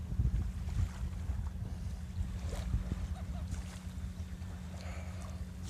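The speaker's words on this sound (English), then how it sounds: "All the fishermen are bringing their boats out" Fishing boat engines and water sounds out on open water, with steady wind buffeting the microphone and faint distant noises.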